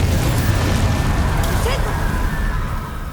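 Confringo spell from the video game Hogwarts Legacy, a loud fiery explosive burst that booms and roars before fading out over a few seconds, with voices mixed in.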